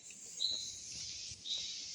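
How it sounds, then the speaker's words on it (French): Small birds chirping in a forest at Mare Longue, Saint-Philippe: a couple of faint, high thin chirps over a quiet airy background hiss, distant and soft, without talking. "Ah, petits oiseaux."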